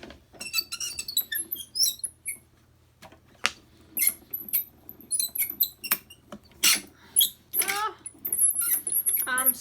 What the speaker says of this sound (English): This machine is just squeaky,